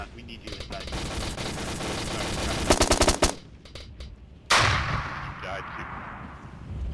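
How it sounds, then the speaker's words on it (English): Machine gun fire in the military video game Armed Assault: dense rattling bursts and rapid volleys, with a sharp loud burst midway followed by a booming blast that rings out and decays. "That machine gunner is really killing a lot of them."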